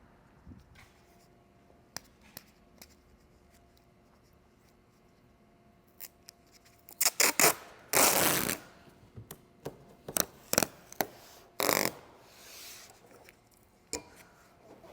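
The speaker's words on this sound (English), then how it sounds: "So we'll tape off half of the hood so we have a nice 50-50 shot." Masking tape is pulled from the roll and laid across a car hood, giving a series of sharp, close ripping and crackling bursts clustered in the middle, with quiet gaps and a few isolated ticks around them.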